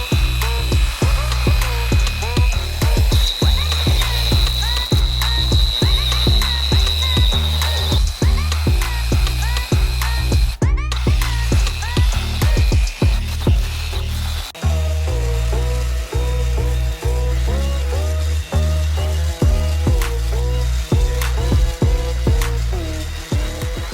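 A rotary sander with 600-grit paper works a 24.5-inch Alcoa aluminum wheel, making a loud, continuous motor drone with a rapid pulsing grind that runs unbroken for the whole stretch.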